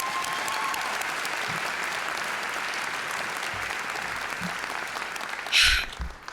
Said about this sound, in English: can we hear another round of applause for everyone who received an award today and will receive an award tomorrow?